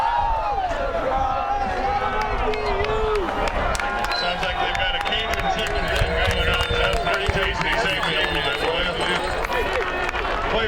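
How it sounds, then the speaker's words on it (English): Players on the sideline of a men's Division III college ultimate frisbee semifinal cheer and dance during a timeout, a steady lively crowd din of shouts, whoops and claps, with an announcer talking over it. "the sideline is going crazy. They're cheering, they're dancing."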